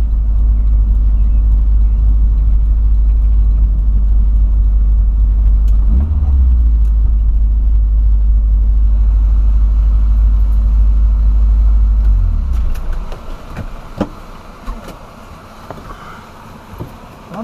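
A car drives with a loud, steady low engine drone and road rumble that holds, dips briefly, then drops off toward the end as some faint clatter appears.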